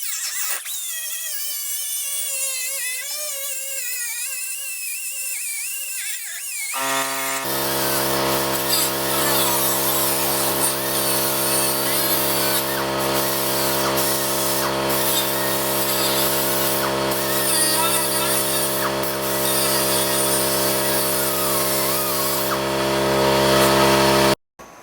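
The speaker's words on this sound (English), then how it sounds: "I'm going to use this buffer here to clean off those sharp edges" A power buffer whines steadily, first high and wavering, then a loud motor starts with a harsh grinding hiss as it smooths sharp metal edges of car seat rails, continuing unbroken before stopping abruptly.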